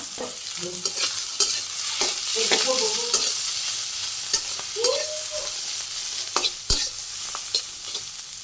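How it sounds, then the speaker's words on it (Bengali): Spinach sizzles and fries in a pan over already-fried onions, with scraping stirs and occasional clinks of a utensil against the metal. "পালং শাক ভাজি করে নিলাম"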